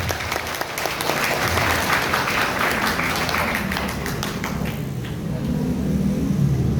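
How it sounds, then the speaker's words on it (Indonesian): A crowd applauding in a hall at a Nahdlatul Ulama centenary gathering, loud, dense sustained clapping throughout, fading slightly toward the end with low rumble beneath. "Tepuk tangan."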